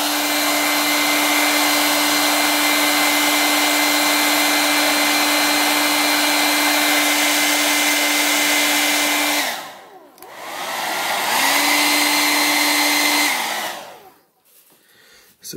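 A hair dryer blows a steady, loud whine while heating the plastic head of a 1/18 scale custom action figure, cutting off briefly around the ten-second mark, then restarting before shutting off near the end.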